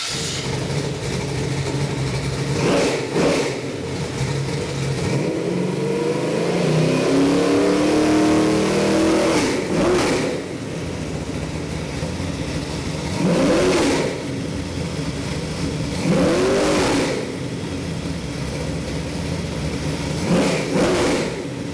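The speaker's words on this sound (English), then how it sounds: "I'd like to fire it up and give you a little rundown." A Ford 347 stroker V8 bound for a 1965 Mustang runs steadily near the listener, its rough idle broken by several sharp revving bursts that rise and fall at intervals, with no talk over it.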